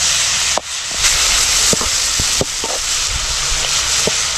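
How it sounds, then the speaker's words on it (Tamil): Onions and tomatoes sauté in a pan for chicken kari dosai, a continuous loud sizzle and hiss broken by scattered sharp taps, like a spoon against the pan. "வெங்காயம் தக்காளி நல்லா வதங்குது"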